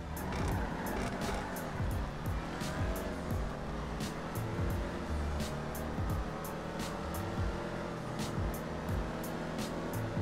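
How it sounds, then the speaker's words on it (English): Engines rev and roar as Dodge Challenger SRT Demons launch in a drag race, repeated gear shifts and rising whines with a sharp tire squeal, loud and close throughout. "We're gonna be doing the drag race now."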